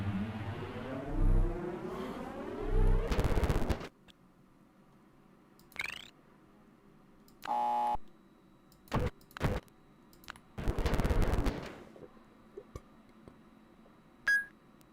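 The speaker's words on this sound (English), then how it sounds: "this sharp beep also appears later" Sharp electronic beep from the video game Myst on 3DO, a short bright tone near the end, following scattered clicks, whooshes and bursts of mechanical game sounds with no talking.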